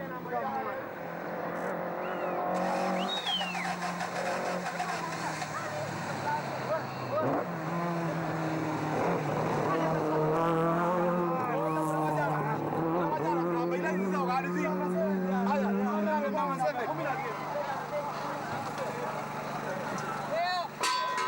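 A Ford Escort rally car at the 2007 East African Safari Rally, its engine droning and rising through gear changes over several passes beneath continuous commentary, with wind noise throughout.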